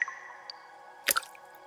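A single tuned water drip in a music production, a short wet squishy plop with a quick pitched ring, faint and alone over a soft sustained tonal bed.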